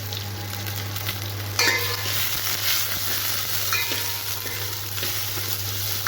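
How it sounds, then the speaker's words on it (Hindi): Chopped onions sizzle steadily in hot oil in a pan for Punjabi kadhi, with a spoon stirring and scraping through them in short bursts over the constant frying hiss. "ये लगभग एक के आसपास अनियन है, ये मैंने सारे डाल दिए इसके अंदर। अब मैं इसको एक क्विक स्टर दूँगी।"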